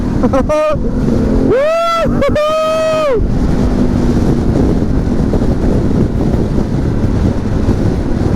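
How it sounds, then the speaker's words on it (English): A Harley-Davidson Pan America motorcycle engine roars through its exhaust, rising and falling in pitch as it revs between gear changes, then settles into a dense steady drone mixed with heavy wind rush past the microphone. "This engine is awesome. And this exhaust, I hope the mic picks up the exhaust"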